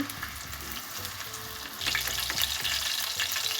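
Chopped onion frying in soybean oil for a fish curry, a steady close sizzle with stirring scrapes, growing louder and denser partway through as the pan heats up.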